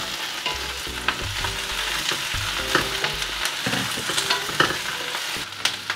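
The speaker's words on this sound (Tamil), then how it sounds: "இப்போ நான் இதில் வெங்காயம் பெப்பர் போடுறேன்." Onion and pepper frying in a pan for a mixed devilled dish, a dense close sizzle broken by sharp metallic spatula scrapes and clicks against the pan, steady throughout with no talking.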